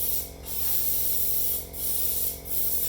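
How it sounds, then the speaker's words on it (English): An airbrush sprays red paint in a steady, close hiss that briefly dips three times, as if the trigger is eased off and pressed again. "boom, we're spraying red."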